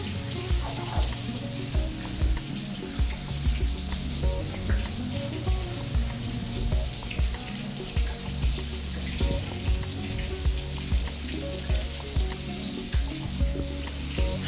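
Prosciutto frying in a pan with a splash of lemon juice, giving a steady, close sizzle with light stirring throughout and no voices.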